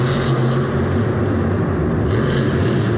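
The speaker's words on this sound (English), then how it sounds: "it just sounds like the truck isn't working right tonight" Monster truck engine running rough and down on power at a Monster Jam night show in Houston, a steady loud drone with low rumbling harmonics throughout, no talking over it.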